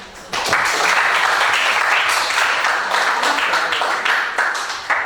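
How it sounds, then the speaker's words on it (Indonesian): Applause from a class or audience during a school lesson, a steady wash of hand claps starting after a brief quiet moment and continuing evenly at moderate loudness to the end. "Tepuk tangan."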